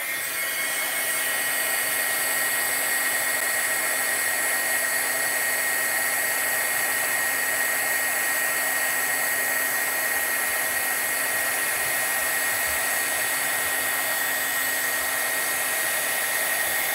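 A heat tool for embossing blows a loud, steady, continuous whoosh with a high whine to melt embossing powder, running unbroken throughout.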